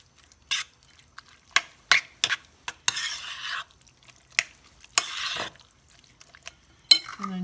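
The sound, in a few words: mixing cheese into casserole ingredients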